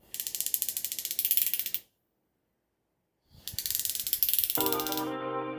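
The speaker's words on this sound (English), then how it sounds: "Listen to the sound of the 120 click bezel." Unidirectional 120-click dive bezel on a Glashütte Original SeaQ watch turning in two runs of quick, crisp ratcheting clicks separated by a silent gap, close and clear, with a tonal chime entering near the end.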